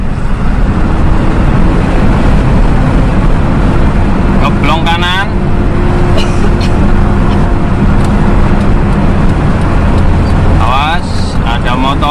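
Toyota Kijang LGX engine droning loudly and steadily as it speeds up in fifth gear, with constant road and traffic noise, plus a brief passing sound from another vehicle near the middle and again at the end.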